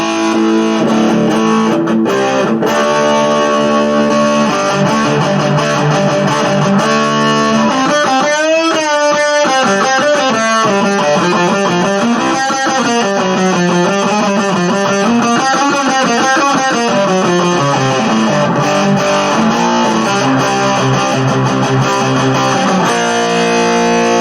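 An electric guitar runs through a Boss GT-100 high gain stack preset, playing loud, heavily distorted sustained chords and bending melodic lines continuously with no talking.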